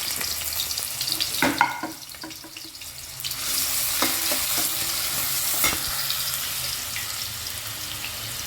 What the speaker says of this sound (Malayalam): നമ്മളിനി ഓയിൽ ഒഴിച്ചിട്ടുണ്ട്. അപ്പോൾ അതിലേക്ക് സവോള ഇടണം.